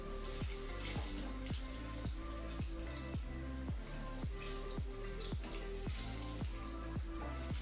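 Banana pakoras frying in oil over low heat, a steady soft sizzle with a regular crackling pulse roughly every half second, close and even throughout with no talking.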